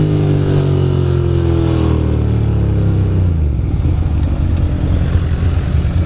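Loud, close motorcycle engine noise while riding in a group from Brooklyn to Manhattan, with a steady rumble and a falling rev as the bike decelerates, then a rough idle-like drone.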